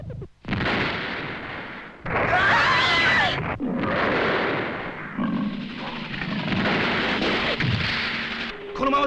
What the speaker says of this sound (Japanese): うるさいボンフリー、リック撃て撃て撃ち殺せ。